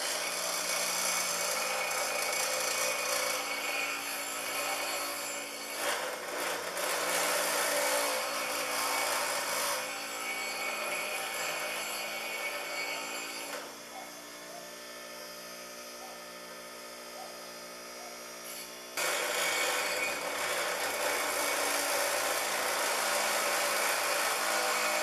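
Hand grinder shaping the shoulder of a Daruma Japanese hammer, a continuous abrasive whine and grind that drops to a quieter tone midway, then resumes at full strength.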